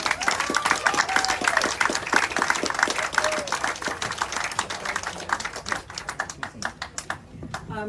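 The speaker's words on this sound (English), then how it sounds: "How about a round of applause for our first half poets?" An audience at a poetry launch event applauds the poets, with dense, continuous clapping that thins out toward the end, and a few voices call out over it.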